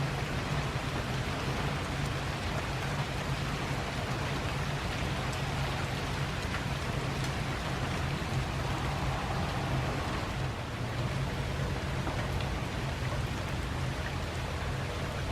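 Light rain falls steadily over a garden on a misty late-October morning, a soft, even patter and hiss that stays constant throughout with no voices.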